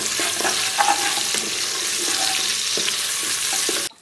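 Sliced onions cook lightly in a pot for mutton with okra, giving a steady close sizzle with soft stirring clicks throughout, then stopping abruptly just before the end.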